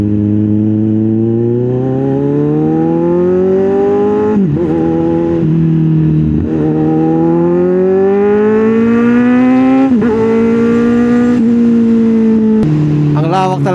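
Car driving on a road in Clark, a steady close engine drone whose pitch climbs and drops through several gear changes, continuous and fairly loud with no talking.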